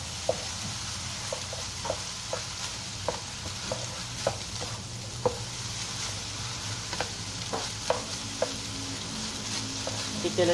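Rice being stir-fried in a pan for fried rice with dried shrimp, a steady close sizzle and crackle with repeated scraping clicks of the spatula turning the rice, continuous throughout.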